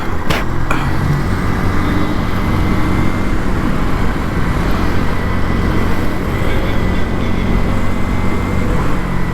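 A 2025 KTM Duke 160 motorcycle rides along a road, heard as loud, steady engine drone and rushing wind noise throughout with no talking.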